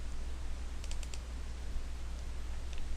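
A computer mouse gives a few faint, quick clicks over a steady low hum while navigating Prezi presentation software.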